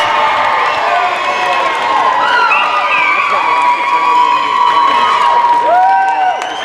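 A crowd cheers and shouts for the Brew City Bruisers Beer Leaders during the BrewHaHa 2018 game between the BCB All-Stars and the Kalamazoo Killa Stars. The roar is steady and close, with rising whoops over a dense wash of voices.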